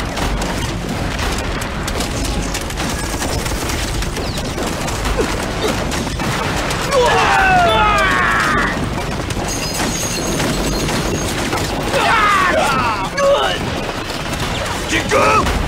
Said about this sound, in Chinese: 炮击准备！ 开炮！